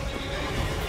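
A horse neighs in the video game Elden Ring, one loud, close whinny that fills the short moment on its own.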